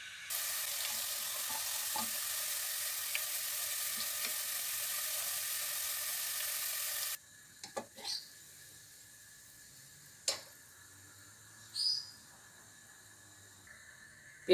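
Onions browning in oil in a pan for beef nihari give a steady, loud broadband sizzle for about seven seconds, then quieter frying with a few scraping stirs and clinks.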